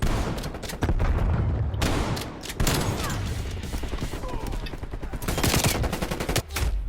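Rapid bursts of shotgun and automatic gunfire from a Call of Duty: Cold War match, loud and dense with short pauses between volleys, over continuous game ambience.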